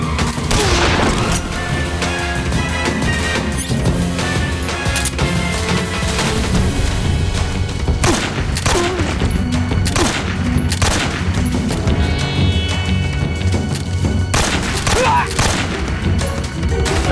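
Gunfire in the video game Metal Gear Solid 3, dense volleys of sharp shots and bursts with heavier booms scattered through, loud and near, in an almost unbroken barrage over a low rumbling bed.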